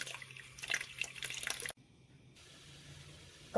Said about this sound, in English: I'm just rinsing out my chili pods, just making sure that they're nice and clean